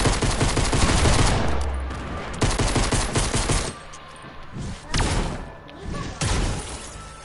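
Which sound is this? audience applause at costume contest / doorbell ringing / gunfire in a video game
gunfire in a video game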